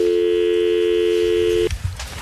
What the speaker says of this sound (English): I'll give him one chance to answer his phone right now, Terry.